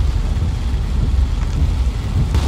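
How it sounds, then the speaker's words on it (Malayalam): Heavy rain pours on a car driving at night along a dark diversion road with no streetlights. It makes a loud, steady, unbroken roar close around the cabin for the whole stretch, with no talking. "നല്ല മഴയാ."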